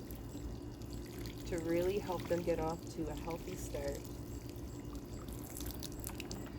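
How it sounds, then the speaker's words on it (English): Water mixed with soluble fertilizer pours steadily from a watering can onto soil over newly planted pea seeds, a soft continuous trickle beneath a person talking quietly. "I filled my watering can with some water-soluble fertilizer, and I'm just going to give these seeds a nice drink"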